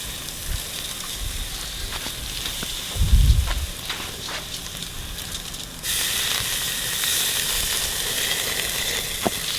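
Fish cooking in oil over an outdoor flame gives a steady hissing sizzle, with a low thump partway through and a brighter, louder sizzle later on.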